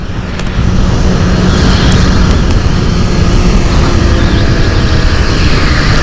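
A motorcycle with a stock exhaust is being ridden, its engine note a loud, continuous rumble mixed with heavy wind noise close to the rider, with no talk.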